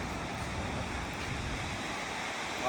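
Steady roar of sea surf washing in continuously, broadband and fairly loud with a windy edge, no voices over it.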